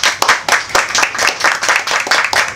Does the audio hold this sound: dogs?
no